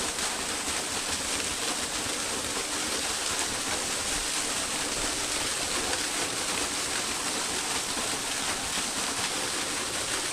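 A mountain stream on a forest trail in Shivapuri near Kathmandu rushes in a dense, constant roar of flowing water, loud and close, unbroken throughout without any voices.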